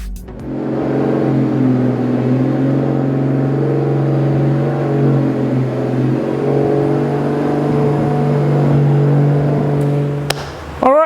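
A Porsche 911 2.8 RSR engine runs loud and close on a dyno, a sustained rumbling roar that swells and holds for about ten seconds before cutting off abruptly.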